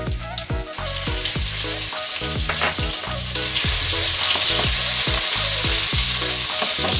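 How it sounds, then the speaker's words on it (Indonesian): Ground spice paste for sayur lodeh sizzling loudly in hot oil as it is sautéed, steady frying hiss with repeated rhythmic scraping and stirring strokes of a utensil against the pan, up close. "Yuk langsung aja kita tumis bumbu halusnya ya."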